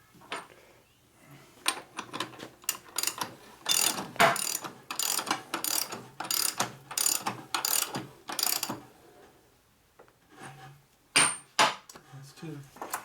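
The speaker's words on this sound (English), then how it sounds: "We gotta tighten the axle first, though." A hand ratchet tightens the rear axle on a 1988 Harley-Davidson FXR motorcycle: repeated bursts of quick, sharp clicking, close and fairly loud, with short pauses between strokes and a few faint voices.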